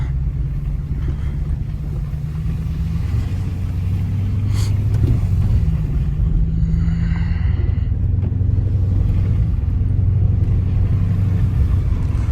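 A 2013 Chrysler 300C Hemi RWD cruising on winter roads, heard from inside as a loud, steady low engine rumble with road noise that swells slightly partway through; no voices.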